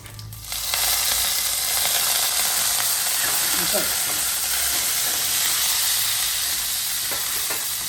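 Mustard seeds, urad dal and green chilies hit hot oil as a tempering for mani kozhukattai sundal, giving a loud, steady, close sizzle with crackling that runs unbroken after a brief quiet start, with faint voices in the background.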